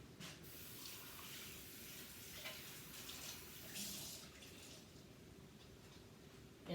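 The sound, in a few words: water running while rinsing something off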